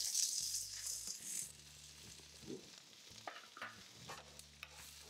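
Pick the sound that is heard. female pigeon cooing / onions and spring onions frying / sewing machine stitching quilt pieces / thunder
onions and spring onions frying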